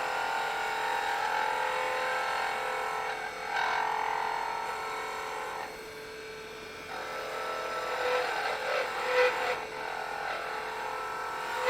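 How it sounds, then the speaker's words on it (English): Wood lathe shaping a honey dipper as a spindle gouge cuts a small curve: a steady whirring drone with a scraping cutting texture, a brief dip near the middle, continuous and close with no voices. "let's take our spindle gouge, perfectly designed for making this little curve in here"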